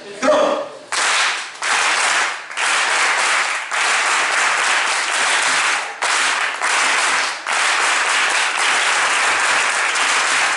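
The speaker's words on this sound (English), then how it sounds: "If you're happy, it's a happy clap." An audience performs a rhythmic Chinese happy clap, loud bursts of unison clapping repeated in short blocks separated by brief gaps, close and filling the room.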